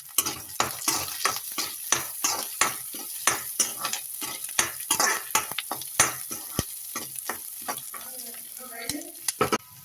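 Onions fry in a pan for bisibellebath while a spoon stirs them steadily, giving a quick, regular run of scraping strokes over a constant close sizzle.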